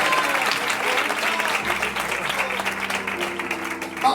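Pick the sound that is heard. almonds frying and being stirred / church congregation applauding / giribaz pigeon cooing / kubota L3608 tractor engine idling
church congregation applauding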